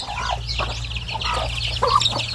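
Thai native mother hens with young chicks cluck steadily at morning feeding in a farmyard, a busy, continuous stream of close clucks and short calls over a low background hum.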